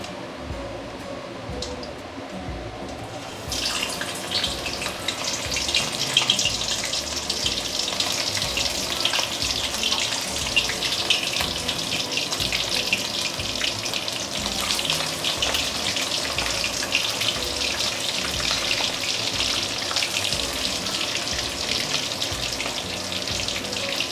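Pong pong prawn fritters frying in hot oil make a steady, close crackling sizzle, starting quietly and then swelling into dense, continuous hissing bubbles after a few seconds, with no one talking.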